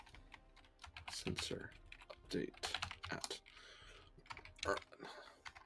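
Fingers clatter in quick, uneven bursts on a computer keyboard, close and fairly quiet, while a voice speaks softly between and over the keystrokes.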